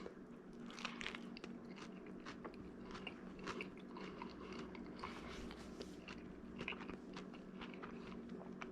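Bites and chewing into a crispy Detroit-style pizza cooked in a Gozney Dome, with a series of soft crunches and mouth sounds, close and quiet, no talking.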